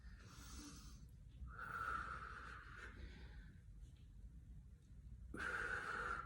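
Deliberate deep breathing during an exercise session, with drawn-out, rasping inhales and exhales close to the microphone in slow cycles, each breath several seconds long.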